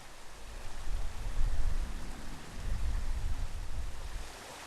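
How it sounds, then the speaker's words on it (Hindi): Clean water flows along a stream, making a continuous rushing, bubbling wash that swells and eases slightly while staying close and steady, with no voices. "एक नाला जहाँ साफ पानी बहता है"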